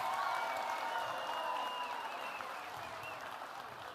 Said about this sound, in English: a round of applause for both of these amazing athletes, please